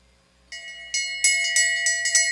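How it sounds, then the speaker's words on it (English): Bell struck repeatedly at a desert short track race to signal the final lap, six or seven bright metallic rings in quick, slightly uneven succession, each ringing on and building in loudness, close and clear with no talk. "There's your bell lap, Bailey Luck."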